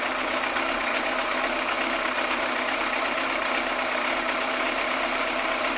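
A Yamaha FZR1000 EXUP motorcycle engine idles steadily and close by while its carburettors are being balanced. The tone holds an even, continuous note throughout, with no voices.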